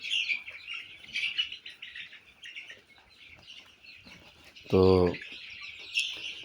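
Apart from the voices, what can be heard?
Colour Bird broiler chickens clucking in a poultry farm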